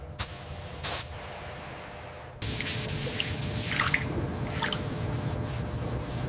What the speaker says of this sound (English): Laying down the primer.